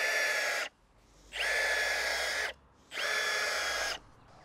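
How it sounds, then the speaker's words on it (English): Cordless power drill boring into lawn soil, three steady whirring bursts of about a second each separated by short pauses, close and clear with no talking. "if you're going to be using a drill to drill your lawn"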